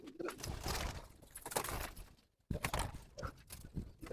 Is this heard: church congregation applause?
no